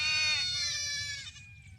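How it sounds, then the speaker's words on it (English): Sheep bleating loudly and close, one long wavering, nasal cry that fades out over a low rumbling background, with no speech. "Somehow or another, my mic was off and the sheep were taking over."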